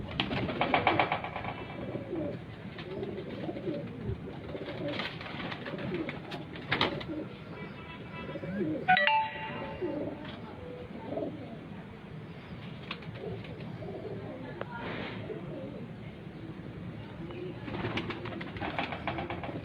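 Pigeons of a fancy breed kept in rooftop lofts coo steadily through the whole stretch, a dense overlapping murmur of several birds close by, with a few brief wing flutters and no talking.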